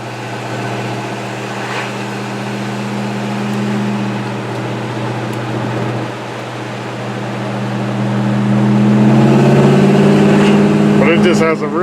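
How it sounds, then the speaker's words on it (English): A 1965 Chevrolet Impala SS with its original 283 V8 and Powerglide transmission drives down a road with the windows down, giving a steady low engine drone that swells louder near the end, with road and wind noise around it. "This is just the sound of the car as it's driving down the road."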